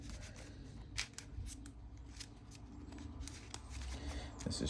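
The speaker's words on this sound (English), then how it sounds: "Alright, now we'll shuffle this up." A deck of Marvel Champions cards is shuffled by hand, giving soft riffling and snapping clicks in quick irregular bursts, close and fairly quiet.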